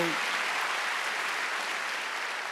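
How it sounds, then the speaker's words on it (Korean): Applause from a congregation during a Sunday church worship service, a steady dense wash of clapping filling the whole moment with no pause. "박수"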